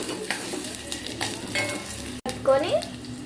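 Chopped onions with cumin and mustard seeds sizzle steadily in a hot pan while being stirred, with scraping strokes over the constant frying noise and a brief break partway through.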